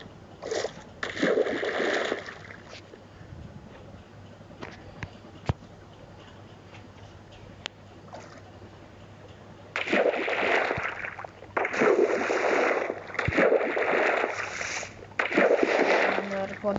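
Water splashes and sloshes in Minecraft mobile gameplay, coming in short bursts early on and longer, louder bursts toward the end, with quieter stretches and a few sharp clicks between them.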